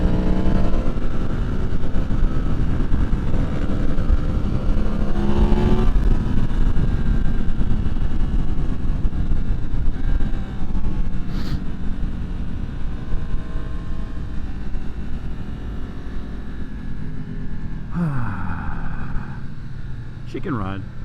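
A Yamaha MT-10 motorcycle engine roars steadily and close while riding up a road, with continuous loud engine drone and gear shifts and wind rush, and a voice talking over it now and then.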